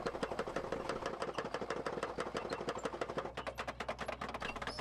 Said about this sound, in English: The planter is pulled by a small, fully tracked vehicle, which has a smaller diesel engine than a normal wheel tractor